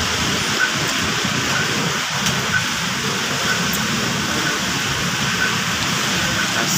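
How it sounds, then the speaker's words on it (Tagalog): Steady rain falling outdoors, a dense continuous hiss with soft patter at a constant level and no voices. "Ulan sa labas. Stranded ako."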